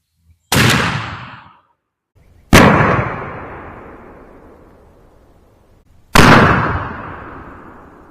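A 12 gauge shotgun with a factory full choke fires 3.5-inch Winchester Long Beard XR No. 5 turkey loads outdoors. Three loud, separate blasts sound a couple of seconds apart, each followed by a long fading echo.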